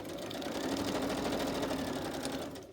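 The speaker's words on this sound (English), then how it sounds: "think I'm just going to continue around and stitch it all down." Sewing machine stitching steadily around paper scraps while making ephemera, a continuous close mechanical whir with fast rapid needle chatter throughout, no talk.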